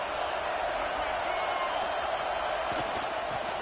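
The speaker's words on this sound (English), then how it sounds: "this crowd is turning it up a notch" A college football stadium crowd roars steadily through a second-down play, a dense, continuous wall of cheering that holds at one loud level from start to finish.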